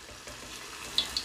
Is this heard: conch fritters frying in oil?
yes